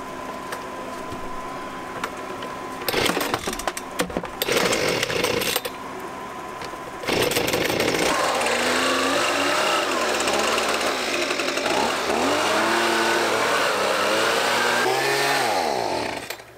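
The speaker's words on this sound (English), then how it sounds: "I leaf blowed it." A leaf blower clears an aging wooden deck, its engine droning loud and steady with revving surges and bursts that rise and fall, close by.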